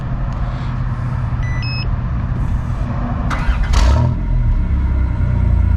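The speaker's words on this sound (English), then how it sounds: "time for the official first start with the complete exhaust system" A van engine with a newly fitted complete exhaust system starts up, a starter crank followed by a low mellow idle rumble, preceded by brief electronic beeps and loud, close and steady after catching.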